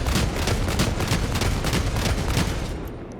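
Sustained support-weapon fire from a prone position in Helldivers 2, a steady, loud stream of heavy shots rolling continuously, close and dense, then easing off at the end.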